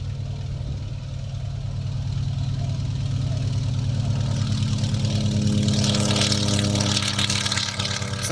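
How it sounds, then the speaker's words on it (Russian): An An-2 biplane's radial piston engine throttling up for takeoff, a loud throbbing drone with a steady propeller beat that grows stronger and brighter as power builds, with no voices over it. "Самолет Ан-2 постепенно набирает скорость и взмывает в небо."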